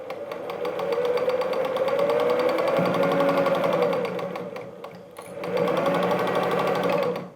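A sewing machine runs a long continuous patchwork seam, its steady needle rhythm buzzing close and loud for nearly the whole stretch, with a brief slowdown before it picks up again.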